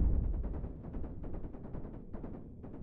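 Rapid bursts of ship weapons firing in the space combat game Cosmoteer, a dense muffled rattle of shots that continues steadily with brief gaps.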